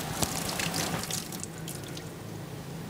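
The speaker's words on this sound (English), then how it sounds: "squeeze the nitrocellulose to get rid of most of the remaining water" Water drips and trickles as washed nitrocellulose is squeezed by hand, a close, steady wet patter with small splashes that eases off slightly toward the end.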